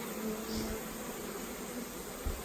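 A honeybee swarm fans at the entrance of a hive in an apiary, giving a steady faint buzzing drone nearby with a few louder passing wingbeats, and no voices.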